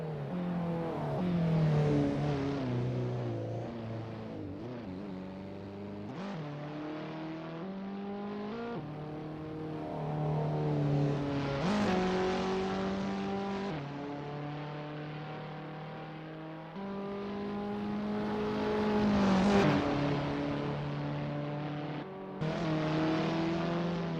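Abarth 500 engine from Assetto Corsa practice laps on the Paris circuit, droning steadily with rising and falling revs as gears shift, close and continuous, no voices.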